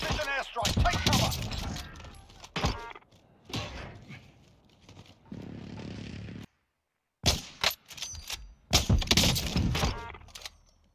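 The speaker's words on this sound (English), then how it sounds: "Enemy precision airstrike! Take cover!" Call of Duty Warzone precision airstrike: a series of loud, sharp explosive blasts and crashing impacts in bursts, separated by a brief silent gap, with game voice callouts mixed in.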